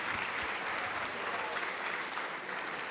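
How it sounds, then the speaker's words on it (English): A room full of people at a Christian gathering applauds steadily. The dense, even clapping is heard from a slight distance and holds at the same level throughout. "A round of applause."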